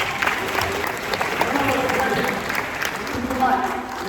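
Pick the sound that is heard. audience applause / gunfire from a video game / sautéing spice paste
audience applause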